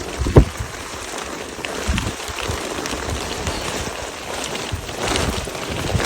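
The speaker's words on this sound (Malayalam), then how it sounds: "കാറ്റാണ്ട് സൗണ്ട് എത്ര കിട്ടുമെന്നറിയില്ല" Wind gusts and light drizzle on a misty mountain path up to Kudajadri in the monsoon, a steady close rushing wash broken by a few sharp buffets, with no voices.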